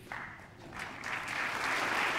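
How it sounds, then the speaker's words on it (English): Scattered applause from a crowd during a political speech on immigration reform, a steady wash of clapping heard at a distance that swells slightly over two seconds. "Scattered applause."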